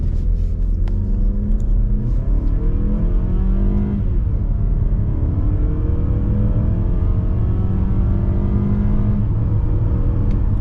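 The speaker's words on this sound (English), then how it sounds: "Engine sounds really good." A 2023 Mazda CX-50 SUV engine revs up and pulls hard from a standstill, its droning pitch climbing steadily through the gears, loud and close, with a low rumble throughout.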